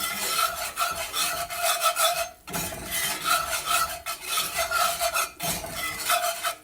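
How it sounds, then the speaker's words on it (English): A utensil scrapes and rubs steadily against a pan while a roux for biscuits-and-gravy is stirred, close and continuous in rhythmic strokes with two brief pauses and no talking. "I'm stirring this till it gets nice and consistent."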